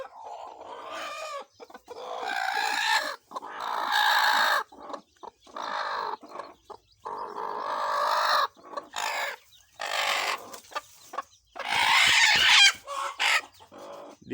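Brooding hens and their live chicks clucking loudly and close by, with repeated bursts of throaty calls and a crow-like cry, separated by short pauses.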